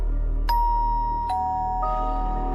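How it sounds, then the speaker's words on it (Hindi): A doorbell rings in a horror cartoon, sounding three clear ding-dong chimes, bright and close, each tone ringing out briefly in an otherwise quiet room. "तभी डोरबेल बजी।"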